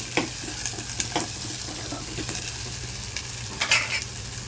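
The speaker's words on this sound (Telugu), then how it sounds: "కరివేపాకు ఉల్లిగడ్డలు రెండు ఒకసారి వేస్తున్నావు నందిని?" Curry leaves and onions fry together in a pan for an egg tamarind curry, a steady close sizzle broken by brief stirring scrapes, with no voices over it.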